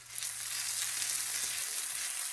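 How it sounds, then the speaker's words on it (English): Butter and onions sizzle in a hot pan, a loud, steady bright hiss of frying that fills the whole moment. "Put about 1/4 stick of butter in there, and that'll make it nice and creamy."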